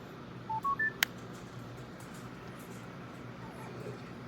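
A Turtle Beach Stealth 700 wireless gaming headset plays three short rising beeps when powered on and connecting to a computer, followed by a sharp click, faint over quiet room noise.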